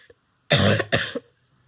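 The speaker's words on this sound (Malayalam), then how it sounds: "നല്ല ചുമയാണ്" Two harsh coughs in quick succession, close and loud, from a person with a bad cough and sore throat, followed by quiet.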